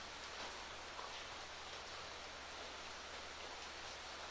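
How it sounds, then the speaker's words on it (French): Rain patters steadily around a farm building at Ferme Rouge, a faint, even hiss of drops without pauses or other sounds. "Ça va pas être évident avec la pluie."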